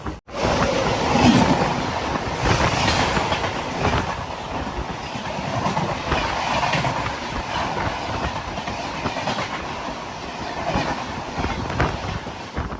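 Hazrat Nizamuddin–Ernakulam Mangala Lakshadweep Express rushing past at close range, a loud, steady roar of wheels on rails with rhythmic clatter and wind buffeting, sustained for the whole stretch without voices.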